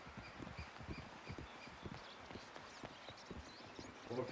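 Horse hooves clip-clop in a steady walking rhythm in a medieval roleplay video game, fairly quiet, with faint ambient sounds around them.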